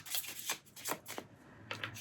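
Tarot cards from the Wild Unknown deck are handled and shuffled, producing a few quick, soft riffling swishes and rubs, close and quiet, with no voice.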